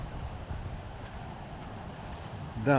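Steady blustery wind rumbles low against the microphone throughout in a parking lot by the shore, with a brief voice-like burst near the end.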